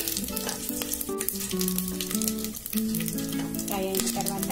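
Whole spices such as shahjeera, fennel and cumin seeds with bay leaves frying in a pan for tomato bagara rice, a steady close sizzle with light stirring throughout.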